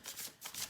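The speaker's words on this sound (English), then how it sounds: "let me just shuffle my deck real quick" A tarot card deck is shuffled in a couple of quick, soft riffling bursts, close but faint, with no voices.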